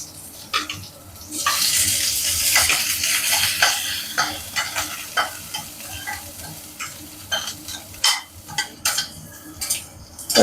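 Onions sautéing in a hot pan with fried vadagam seasoning, a steady broadband sizzle rising early and then easing, broken by sharp clinks and scrapes of a stirring spoon toward the end; no voices.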